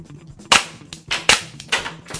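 A training weapon fires several sharp, cracking shots in quick succession down range, loud and close, each with a snappy attack and a short decay.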